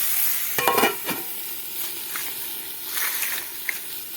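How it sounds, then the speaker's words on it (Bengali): Potato and pointed gourd curry with tomatoes frying in a pan as the lid goes on: a steady soft sizzle with a few clattering bumps and scrapes of utensils early on, no talk. "এবার এটা আর একটু ভাজা ভাজা করে নেব তার জন্য একটু ঢাকা দিয়ে দেবো"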